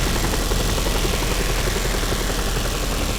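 Helicopter rotor and engine roar steadily and loudly throughout, a dense continuous thrum with rapid low chopping from an aircraft flying in the open-world action game Just Cause 2.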